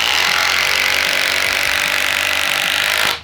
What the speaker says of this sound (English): Now the 36 volt. All right, and now a 6-inch timber lock.